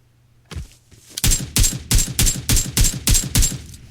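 Rapid gunfire in the mobile battle royale game PUBG Mobile, a quick run of about eight loud, sharp shots in steady rhythm after a couple of softer opening bursts, close and punchy, with no talking.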